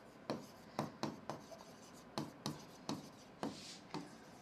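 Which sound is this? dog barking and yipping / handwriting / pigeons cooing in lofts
handwriting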